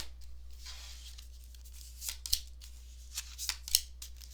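Tarot cards being drawn and shuffled, soft papery riffles and slides with a few crisp flicks, quiet and close over a low steady hum.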